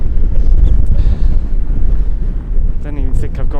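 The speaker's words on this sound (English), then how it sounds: "This is an icy wind." An icy wind roars in heavy, continuous gusts, buffeting the microphone with a loud low rumble throughout, while a voice briefly talks near the end.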